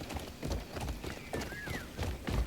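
Horse hooves galloping in the video game Crimson Desert, a quick rhythmic clatter of hoofbeats at moderate volume, with a brief whinny-like tone in the middle.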